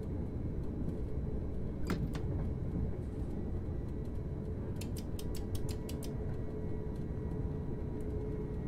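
A Stadler Flirt 3 electric multiple unit in a train simulator game, running at speed with a steady low rumble and hum, a few faint clicks and brief high metallic ticks over the constant running noise.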